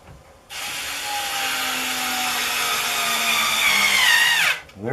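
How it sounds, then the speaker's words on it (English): A power drill drives a screw into a wooden rolling cart for a planer, one steady, loud whirring run of about four seconds that slows and bogs down as the screw seats, then cuts off. "And just screw her on down."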